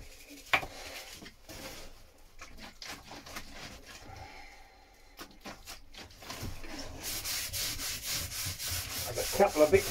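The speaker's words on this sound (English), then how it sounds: "there's not much point of watching real time me sanding that block down" A wooden block is sanded by hand with steady rubbing strokes of abrasive on wood, rhythmic and close, growing busier and louder toward the end.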